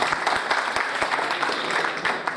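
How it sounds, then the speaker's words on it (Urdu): Audience applause at a book launch ceremony for an Urdu real estate book, a steady burst of many hands clapping close by with no talk over it. "ایک دفعہ تالی بجا دیں"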